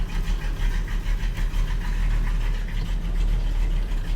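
A 1937 Buick street rod's V8 idling, loud and close, with a lumpy, rhythmic loping pulse and a deep throbbing rumble throughout.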